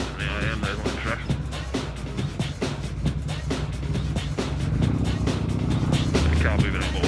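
Traffic noise from a car pulling aside on a road, heard from a motorcycle, with steady engine rumble and wind throughout that swells louder toward the end, with talk over it.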